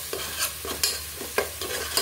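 Vegetables with prawns and crushed green chili being stir-fried in a pan, with a soft continuous sizzle broken by roughly six scraping spatula strokes at a steady rhythm, close and moderately loud, with no voices.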